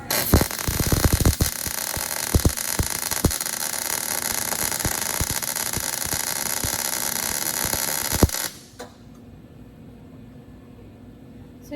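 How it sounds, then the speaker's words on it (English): Steady crackling, hissing buzz of an arc weld laying a one-inch bead on metal plate, running continuously for several seconds with sharp pops, then cutting off abruptly to quiet room noise. "now we can perform our 1-inch welds on each side"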